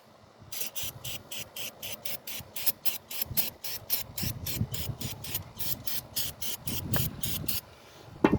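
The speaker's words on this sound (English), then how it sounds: "What I'll do first is spray it." A spray can hisses in a rapid series of short, even bursts onto the front fork of a Triumph Tiger 1200 Explorer motorcycle, close and fairly loud with no talk.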